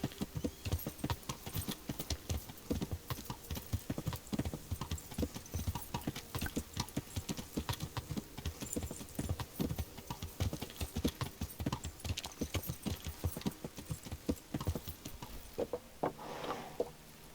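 Continuous rapid clip-clop of horse hooves in the video game Kingdom Come: Deliverance, steady and fairly loud, with a brief tonal flourish near the end; no talking.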